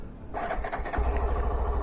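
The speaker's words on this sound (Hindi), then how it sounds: "तो सबसे पहले मैं इस मोटरसाइकिल को स्टार्ट करता हूं और आप लोगों को इसका एग्जॉस्ट" A Hero Glamour Xtec 125cc motorcycle with a changed, slightly tuned exhaust cranks and fires up, then settles into a steady, close idle thrum.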